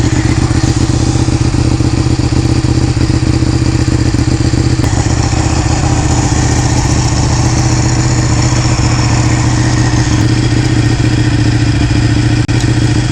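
A Ducati Panigale 1199 motorcycle engine runs loud and close for the whole stretch, a steady rough throbbing rumble with mechanical clatter and no talking.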